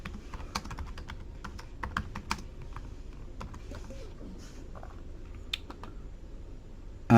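Quick keystrokes clatter on a computer keyboard as an address is entered into removals-company software, irregular bursts of light taps, close and fairly quiet, followed by a louder click at the end.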